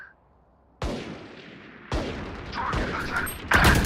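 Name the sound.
gunfire from a video game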